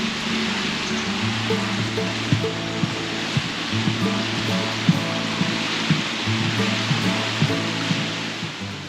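Broad steady rush of the Nakagawa river flowing beneath a wooden bridge, a continuous near wash of water with faint low knocks and thumps scattered through it, no voices.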